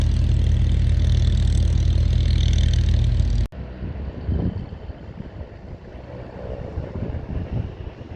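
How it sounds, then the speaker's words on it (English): A loud, steady engine roar runs at Duxford airfield during engine runs and tests, with a Spitfire nearby, then it cuts abruptly to quieter, rumbling engine noise buffeted by wind, with no voices. "I think they're just doing engine runs and engine tests."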